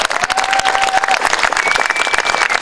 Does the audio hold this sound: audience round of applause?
yes